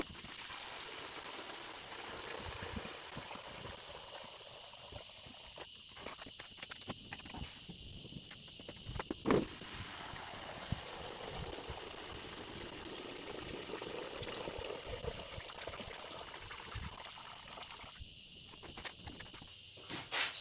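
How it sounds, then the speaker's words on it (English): Dirty water mixed with detergent is dumped out of a DIY vapor blaster cabinet, making a faint, steady hissing trickle with occasional soft knocks and splashes throughout. "I'll just continue to dump out all the water that we just put in"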